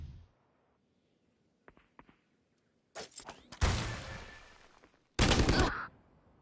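Bursts of video game gunfire during a warm-up match: a few light taps, then a sharp cluster of loud shots around the middle, followed by a long dense volley and a final heavy burst near the end.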